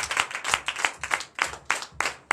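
A church congregation claps during a Sunday worship service in Benin, the short bursts arriving in an uneven, patchy rhythm at moderate volume with no talking over them.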